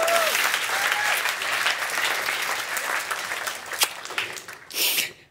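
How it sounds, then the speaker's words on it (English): A talk audience breaks into a warm round of applause after a performance, dense clapping that carries on steadily and tapers near the end, with a few cheers or voices mixed in. "A round of applause, yes, yes."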